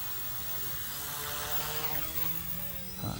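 An OMPHobby M1 EVO RC helicopter's rotor spins at its lowest RPM, giving a steady, even whirring buzz close by with no talk.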